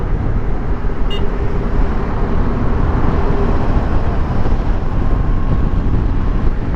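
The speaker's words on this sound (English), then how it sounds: "Lot of traffic today, sir." Dense, heavy road traffic crosses a bridge on a highway, a loud continuous roar and rumble of engines and tyres with wind buffeting the microphone, steady throughout with no voices.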